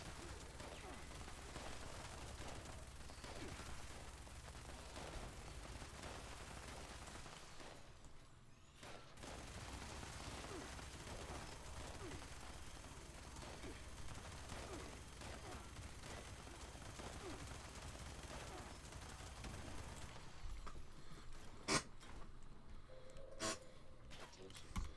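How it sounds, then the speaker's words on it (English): Explosive-round gunfire in the video game Fallout 76, a steady barrage of rapid shots and blasts that runs loud and dense nearly throughout, briefly dipping before resuming, with sharp isolated bangs near the end. "Explosive rounds are great."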